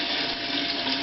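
Water drains through a fine 73 micron bubble hash screen bag, giving a steady, dense trickling wash that stays even and close throughout with no voices.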